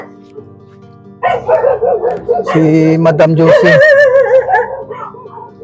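A dog barks and yelps loudly and close by, with harmonic, howl-like cries during an outdoor scouting visit, mixed in with people talking.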